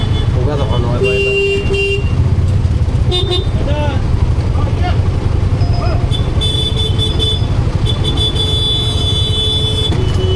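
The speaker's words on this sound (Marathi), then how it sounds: "आता हॉर्न वाजून काय होणार आहे का?" Vehicle horns honk in a traffic jam outside a station, heard from inside an auto-rickshaw: several short and longer toots from different vehicles over a steady rumble of engines and road noise, with a voice talking.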